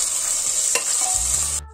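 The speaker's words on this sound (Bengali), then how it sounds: "টমেটোটা একটু নেড়ে দেবে," Tomatoes stirred while frying in a pressure cooker: a bright constant sizzle with a sharp scrape of the spoon partway through, and a low clatter as the sound suddenly cuts off.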